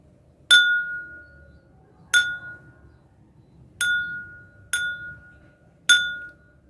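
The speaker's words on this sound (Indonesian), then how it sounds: "ketika gelas dan sendok ini dibenturkan." Five bright, ringing clinks of a spoon tapping a drinking glass, spaced a second or two apart, each leaving a short shimmering tone that fades quickly.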